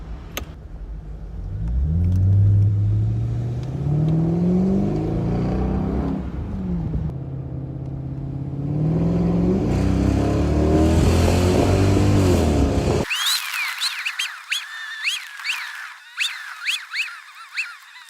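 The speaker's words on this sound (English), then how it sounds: "You can hear I haven't turned the engine off or any jiggery pokery." A Jaguar XK8 engine hums and rises in pitch as it accelerates uphill through gears under load, then cuts abruptly to quieter, fluctuating tonal sounds.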